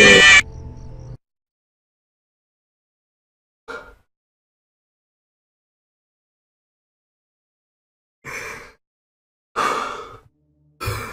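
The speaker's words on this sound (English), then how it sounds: "I thought I heard breathing." Heavy breathing in a horror video game: a few separate breaths and sighs come out of near silence, with long gaps between them and a short cluster of breaths toward the end.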